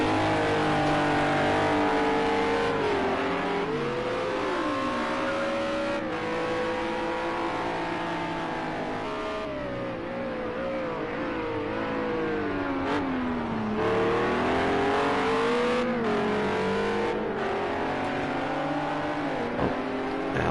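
GT3 race cars lapping the Algarve circuit in a sim racing game, a loud continuous engine drone with rising and falling pitch as cars brake downhill and accelerate, steady throughout with no pauses.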